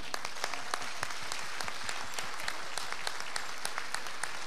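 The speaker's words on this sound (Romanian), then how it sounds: "Să aducem încă o dată aplauze și o plecăciune pentru Fundația Mihai Eminescu" An audience at an event honouring a foundation in Vienna gives a steady round of applause, dense clapping at moderate volume with no voices over it.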